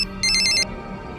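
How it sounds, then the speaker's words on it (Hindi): A telephone ringtone sounds late at night as a single short electronic burst of rapid trilling tones, loud and close over a low steady background. "राघव जी इतनी रात को क्यों फोन कर रहे हैं?"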